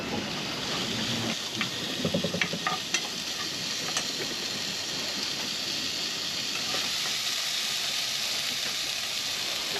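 Pre-made roast vegetables heat in a pan on a sailing boat offshore, giving a steady close sizzle and fry with brief stirring scrapes and clatter early on, continuing evenly to the end.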